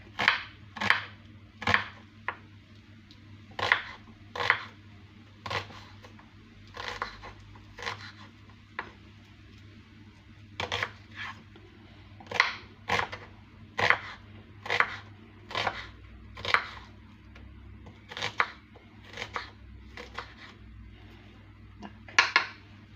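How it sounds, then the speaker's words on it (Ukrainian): A knife chops an onion into half-rings on a board in quick irregular bursts of crisp cuts, pausing briefly between runs, close by and with no talking. "Іншу цибульку я покришу, рішила покришити півкільцями."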